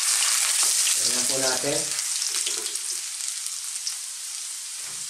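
Garlic and ginger sautéing in hot oil in a pan for a Filipino mung bean and anchovy dish, a bright steady sizzle that fades slightly while someone speaks briefly over it.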